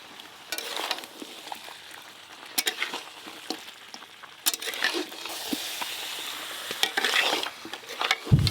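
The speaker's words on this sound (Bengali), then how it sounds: "আলু আর খাসি মাংস আর মশলা একসঙ্গে ভালো করে আবারও কষিয়ে নিয়েছি" Mutton pieces, pre-fried potatoes and spices are stirred in a hot pan, with a spatula scraping in irregular strokes over a continuous sizzle and occasional louder clanks against the metal.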